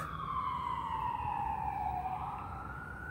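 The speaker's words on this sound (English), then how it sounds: "No, that was an ambulance." A wailing emergency siren sweeps slowly downward then rises again, steady and moderately distant, over a low rumble of traffic.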